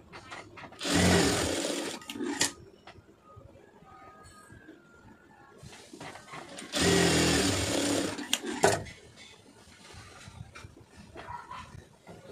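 Sewing machine stitching a net blouse, running in two sustained bursts of rapid stitching with quieter handling and faint sounds between them.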